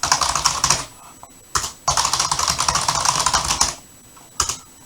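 Rapid clattering keystrokes on a computer keyboard while entering text in a word processor, loud and close, coming in dense bursts broken by short pauses and ending with a brief final flurry.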